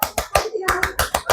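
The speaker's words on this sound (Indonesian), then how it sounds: "Tepuk tangannya kencang." A group of students in a classroom claps in unison, eight or nine sharp, evenly spaced claps in quick succession, loud and close, with faint voices underneath.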